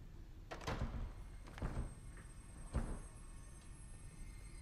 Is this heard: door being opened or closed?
yes